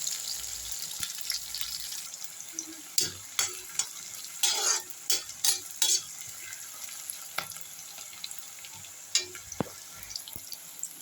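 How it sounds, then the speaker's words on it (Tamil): Sambar onions, or shallots, sautéing in a pan for prawn thokku, with a low sizzle broken by a cluster of sharp spatula knocks and scrapes, then quieter, sparser stirring. "அடுத்து சாம்பார் வெங்காயம் நல்லா வதக்கணும்."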